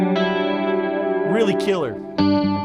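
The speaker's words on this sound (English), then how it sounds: "Here's Terraform for chorus." An electric guitar played through a Terraform chorus pedal rings out in sustained, shimmering clean chords. Someone talks briefly over the middle before a fresh chord is struck near the end.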